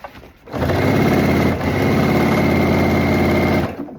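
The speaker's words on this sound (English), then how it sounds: "I'm just gonna start sewing in this" A sewing machine stitches a seam in a leather skirt, its fast motor hum running steadily and loud for several seconds after a brief quiet start, with a short dip midway.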